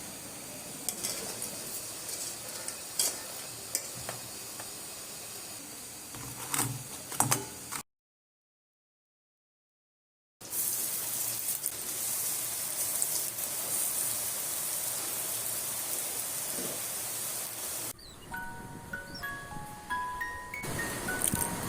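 Old Dhaka meat pitha cakes fry in hot oil with a dense, rain-like crackling sizzle that breaks off briefly and then resumes, followed by a few ticking clicks at the end, with no voices.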